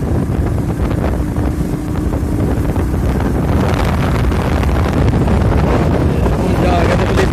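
Heavy wind buffeting a microphone while riding a motorcycle, a loud, constant low roar with engine rumble underneath and a voice talking through it.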